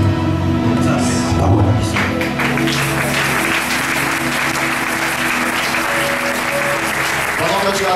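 A church congregation applauding and cheering, steady loud clapping filling the room with voices mixed in throughout.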